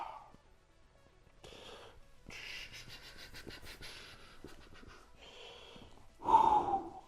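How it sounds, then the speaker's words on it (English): Heavy breathing during a jiu-jitsu workout demonstration: a series of sharp, forceful inhales and exhales, close to the mic, ending in one loud gasping breath. "the breathing, sorry, I just realized I was doing it"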